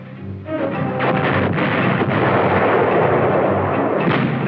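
Field artillery firing in an archival wartime army scene, a heavy boom that swells into a sustained loud rumbling roar lasting several seconds, with no speech.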